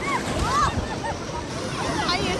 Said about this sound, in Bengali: ঢেউ এসছে, আবার ঢেউ এসছে।